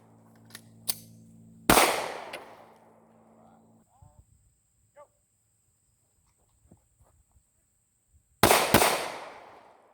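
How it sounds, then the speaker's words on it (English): Two loud pistol shots from slow, deliberate shooting drills, spaced several seconds apart, each a sharp close crack with a ringing tail, amid quieter scattered clicks and faint sounds between. "This is me taking my time, putting the rounds where I intend to put them at."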